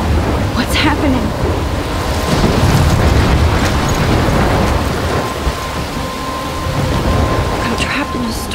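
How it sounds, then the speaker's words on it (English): Thunder rumbles through steady heavy rain in a stormy game scene from Life is Strange, a continuous dense wash of downpour with low booming swells, loud and close throughout. "I'm trapped in a storm?"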